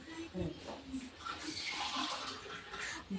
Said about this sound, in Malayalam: അപ്പോൾ നമുക്ക് അര ലിറ്റർ വെള്ളവും കൂടെ ചേർക്കാം